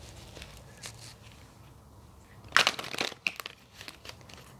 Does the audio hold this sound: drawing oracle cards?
yes